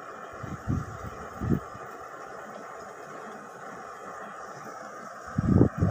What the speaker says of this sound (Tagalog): Umaandar na po ang blower niyan.